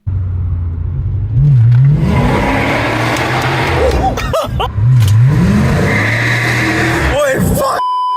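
A Dodge Challenger 392 SRT Hemi V8 revs repeatedly while driving, its throttle blips rising and falling with loud, close rumble and brief gaps between pulls.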